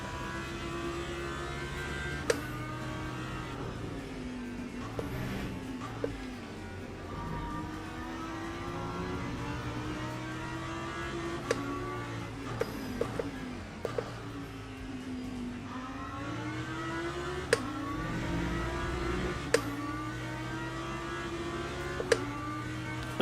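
A Lamborghini race car engine drones through gear changes at Imola in a multi-class racing game, rising and falling revs in a continuous hum with occasional sharp clicks, other cars nearby.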